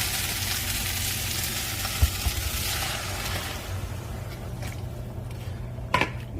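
Curry ingredients sizzle and fry in a pot while being stirred, a steady hiss and crackle with a couple of soft utensil knocks against the pot.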